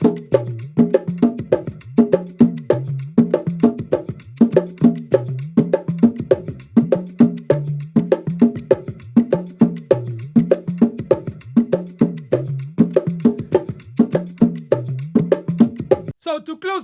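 Bongos play a steady rhythm that alternates high and low hits across downbeats and upbeats. The strikes are crisp, close and evenly repeated, with no voices over them.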